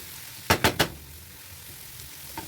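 Cabbage sizzling in a pan with salt, black pepper and turmeric, stirred with three quick scraping strokes in a row, followed by a soft low frying hiss and a faint later clink.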